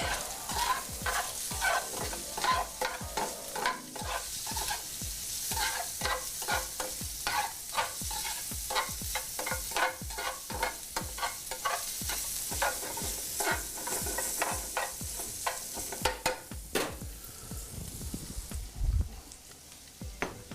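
Sausage sizzles in a frying pan under frequent scraping and stirring clatter, a dense crackle running the whole stretch with sharp utensil knocks throughout, no one speaking.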